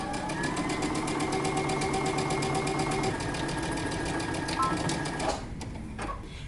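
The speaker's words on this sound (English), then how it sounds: "we're going to stitch using 3/8 of an inch seam allowance" A home sewing machine runs a fast, even stitch down a dress seam at a 3/8-inch seam allowance, the steady mechanical chatter holding loud and close before cutting off near the end.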